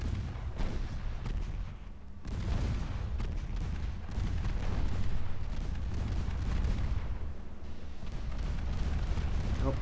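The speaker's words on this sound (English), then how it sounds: "torpedo detonation" A torpedo detonation in the naval warfare game Ultimate Admiral Dreadnoughts, set in a World War era: heavy low rumbling booms roll over steady battle noise, with a sharp blast near the two-second mark and continuous dull thunder afterward.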